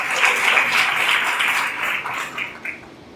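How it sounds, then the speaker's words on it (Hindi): Church congregation clapping together in loud, dense applause that holds steady, then thins and fades toward the end. "जरा ताली बजा कर बताएंगे जोर से"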